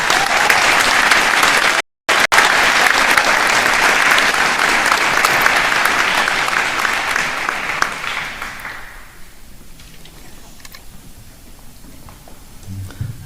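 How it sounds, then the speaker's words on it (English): A high school graduation crowd applauds scholarship winners with loud, sustained clapping that cuts out for an instant near the start, then fades away by about nine seconds, leaving quiet room ambience with a few scattered claps. "Scholarship winners, a round of applause."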